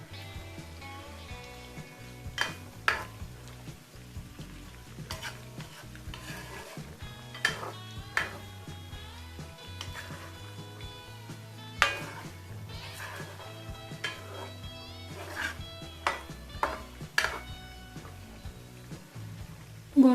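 Beef empal frying in a pan over low heat, with a steady soft sizzle broken by repeated sharp clinks and scrapes of a utensil stirring against the pan, close and without talk.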